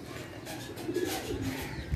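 Pigeons coo steadily around a rooftop loft in Karachi where fancy pigeons are kept and flown, a soft continuous murmur with no voices.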